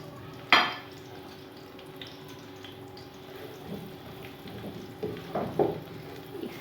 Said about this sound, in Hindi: अब हम इसमें एक मीडियम साइज़ की प्याज डालेंगे।